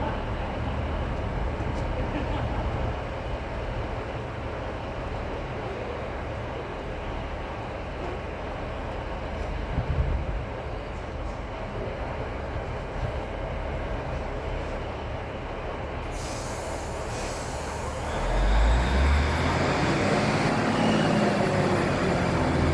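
An LNER train on the line to Morpeth rumbles steadily past nearby, a continuous low roar with wheel and rail noise that swells louder and brighter toward the end as it draws closest.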